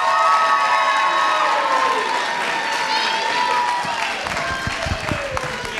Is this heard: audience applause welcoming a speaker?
yes